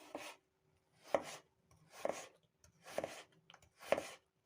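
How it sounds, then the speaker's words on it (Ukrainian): A kitchen knife slices stacked vegetable layers into thin julienne strips on a board, five distinct crisp cuts at an even, unhurried pace with quiet gaps between them. "Потім складаємо все в одну і нарізаємо."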